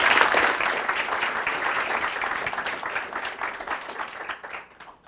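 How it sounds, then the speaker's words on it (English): Audience applause at a lecture for the Grawemeyer Award for Ideas Improving World Order: dense, sustained clapping from a room of listeners, loud at first and gradually thinning and fading out over several seconds. "Please give her a good round of applause."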